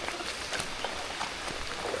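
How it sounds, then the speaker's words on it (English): Steady heavy rain pouring down during a rainstorm on a river where someone is fishing for smallmouth bass, a constant dense hiss with scattered drops, fairly close and continuous. "Rain stopped for a second, and now it's just pouring."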